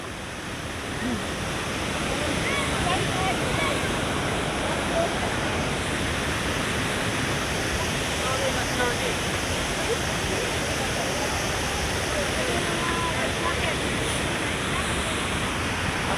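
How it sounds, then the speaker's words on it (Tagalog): A waterfall roars steadily, a dense rushing wash of water filling the whole stretch without pause. "Diyos ko, ang talon."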